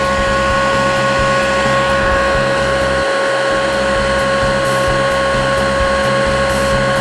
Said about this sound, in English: use your heat gun, turn it on